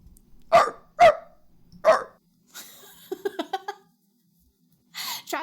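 A person imitates a dog barking with a few loud, separate bark-like yelps, then a quick run of shorter yips, and finally a short burst of breathy laughter.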